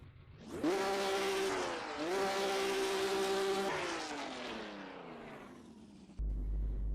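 A Nissan GT-R racing car engine in the Assetto Corsa racing game roars loudly, revving up twice with rising pitch, then winds down into a fading whine before a sudden low rumble.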